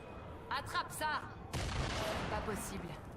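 A grenade is thrown and goes off in Fortnite. Brief voice-like sounds come first, then a sudden broad blast that fades into a long rumbling tail, heard at moderate level.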